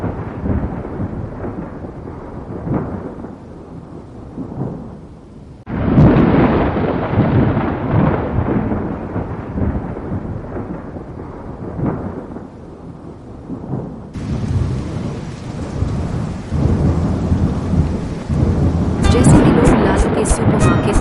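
Heavy thunderstorm with rolling thunder claps and steady pouring rain, loud and close, with people talking over it and a shift to harder rain partway through.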